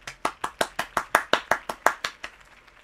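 A crowd applauds Harvey Dent at a rally in the Telltale Batman video game, a run of about a dozen sharp, evenly spaced claps that fade out toward the end.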